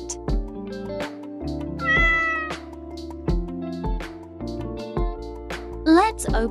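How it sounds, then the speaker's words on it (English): A toy cat repeats electronic meows over a steady musical backing, with a few clear meows close and loud, two of them rising in pitch. "Cat."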